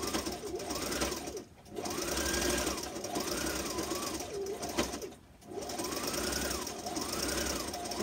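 A sewing machine stitches a fabric face mask in a steady, close mechanical whir that runs in long bursts, dipping briefly twice as the fabric is turned, with faint talk underneath.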